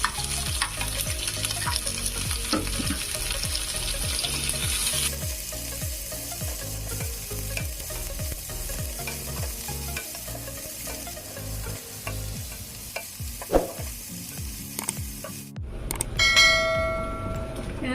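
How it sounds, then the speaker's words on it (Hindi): Green chilli, capsicum and onion stir-frying in a restaurant-style chilli potato dish, with steady scraping and stirring strokes over a continuous sizzle and a brief metallic clink near the end. "हमें कंचा लंका देदेबा और कैप्सिकम प्याज"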